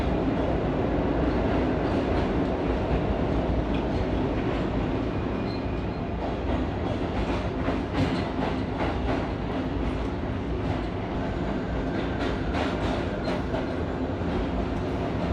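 An R32 subway train on the F line runs over the tracks through an interlocking where it merges with the railroad. A loud, steady rumble with clickety-clack wheel beats and faint squeals runs continuously, close by.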